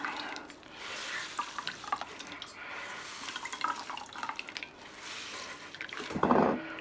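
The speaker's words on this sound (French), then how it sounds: "Donc on essore bien comme il faut pour exprimer le plus possible l'eau de végétation des pommes de terre." Grated potatoes are wrung out by hand, with wet squeezing, trickling and dripping water sounds close up and a louder splash near the end.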